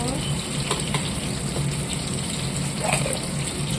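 Mustard, poppy and nigella seeds sizzle steadily in hot oil in a home kitchen, a continuous close crackling hiss with faint pops and no talking.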